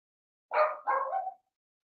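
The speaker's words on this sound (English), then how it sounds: "it's just barking like that" A dog barks twice in quick succession, a pair of close, moderately loud woofs standing alone against silence.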